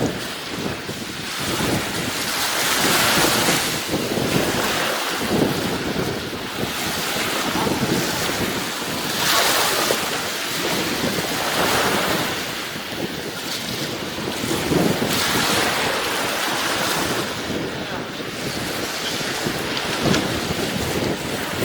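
Waves rolling onto a beach in Guadeloupe under strong, steady wind buffeting the microphone, making a loud continuous roar that swells and eases every few seconds.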